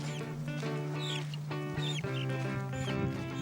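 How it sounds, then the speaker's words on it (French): Several chickens cluck and call close by while walking along a path toward a crocodile pond in Burkina Faso, with steady outdoor background and no speech. "Là, Fidèle, quelques poulets et moi pour la mare au croco"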